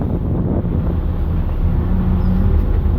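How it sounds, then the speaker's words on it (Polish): An Autosan H10 bus with a Mielec inline-six engine drives along, giving a loud, steady low rumble heard from inside, mixed with road and wind noise and no talking. "a tutaj mamy naszą rodzimą mielecką konstrukcję rzędowa szóstka"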